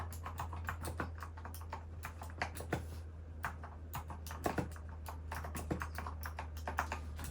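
Fingers type quickly on a computer keyboard, producing a steady run of crisp, close clicks and clacks with slight irregular accents, heard alone at a quiet level.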